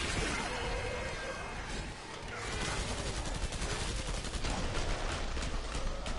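Gunfire in the video game Killing Floor 2, played on Hard difficulty as a SWAT class. Dense rapid shots and crashes keep up a constant crackling barrage at moderate volume throughout.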